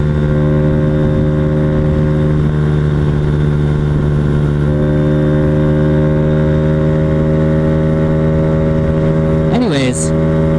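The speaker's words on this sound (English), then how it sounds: "as we continue to drive, man, that's really loud. Like, I can hear my belt whining" Loud car engine drone while driving, with a steady whining accessory belt adding sustained tonal hums throughout and a brief rising whine near the end; close and constant.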